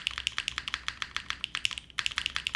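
Someone types on a custom Kohaku mechanical keyboard: quick, crisp clacky keystrokes in an uneven rapid rhythm, close and alone, with one brief pause near the end.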